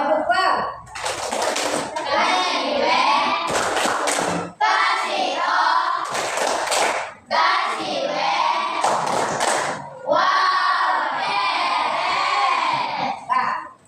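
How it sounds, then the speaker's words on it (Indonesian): A classroom of children performs a rhythmic clapping chant, bursts of hand claps alternating with shouted sung lines from many young voices, loud and close, with brief pauses between phrases. "Kita kasih kelompok 1 dengan tepuk bau."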